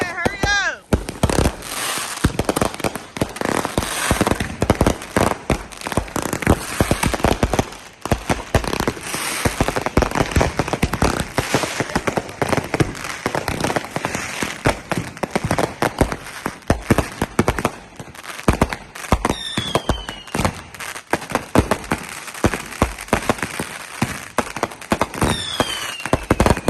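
Fireworks and firecrackers burst in rapid, crackling volleys at a London carnival block party, dense sharp bangs and pops nearby for nearly half a minute, with a few whistling rockets and people talking and shouting underneath.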